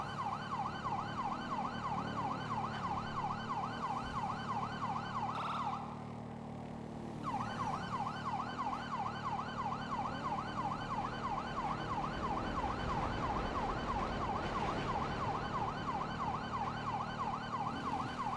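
A police car siren in Grand Theft Auto 5 wails and cycles rapidly and steadily, briefly cutting out before resuming, over a constant engine drone with no talking.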